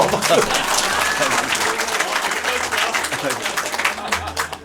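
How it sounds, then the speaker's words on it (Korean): Crowd applause at a political talk event near Seoul Station, a dense, steady wash of many hands clapping for nearly five seconds, with voices mixed in underneath. "박수!"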